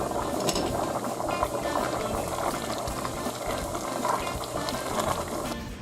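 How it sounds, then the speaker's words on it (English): A pot of red beans boils on the stove with a steady, dense bubbling and gentle popping, continuous and moderately quiet, with no talking. "this has been boiling for a little over an hour"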